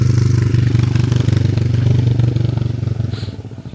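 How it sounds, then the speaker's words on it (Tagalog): A motorcycle engine runs close by outside a residential bungalow lot with a steady mid-pitched drone and rhythmic exhaust pulses, loud throughout, then easing slightly toward the end as it moves past. "Ayan, pinadaan ko lang yung motor."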